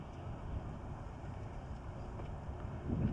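Wind gusting across an exposed back section of a disc golf course during a women's pro tournament round, a steady low rumbling buffet against the microphone that swells louder near the end, with no talk.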